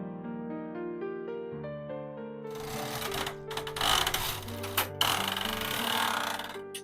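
Vintage knitting machine working a long wool sock, its carriage giving loud mechanical clattering rattles in several passes over soft background music, close by.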